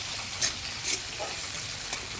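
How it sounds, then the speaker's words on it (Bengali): Onion and garlic frying in a pan while making homemade chow mein: a steady, close sizzle with soft crackle, broken by a few brief scraping stirs. "পেঁয়াজ রসুনটা একটু ভাজা ভাজা হয়ে আসলে তারপর বাকি সবজিগুলো ওর মধ্যে অ্যাড করব"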